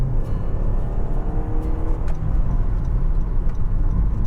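A 2013 Honda Accord 2.0 with an R20 engine and five-speed automatic accelerates on kickdown, a steady, close engine drone heard from inside the car.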